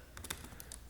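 Quick burst of computer keyboard typing as a terminal command is entered, several close, crisp key taps in an uneven rhythm, quiet and without talk.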